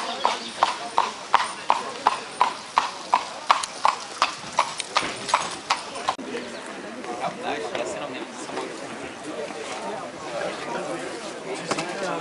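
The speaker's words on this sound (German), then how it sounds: "Pferd um Pferd kommt zum Gotteshaus." Horse hooves clip-clop in a steady, evenly spaced rhythm as Amish buggies arrive at a Pennsylvania meeting house, close at first and then blurring into a softer shuffle, with people talking and faint birds in the background.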